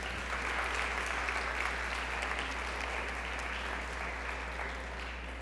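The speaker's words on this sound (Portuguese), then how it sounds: "Você pode aplaudir o Senhor por isso?" A church congregation claps together in sustained, dense applause that holds steady for several seconds, filling the room without any speech over it, with a low steady hum underneath.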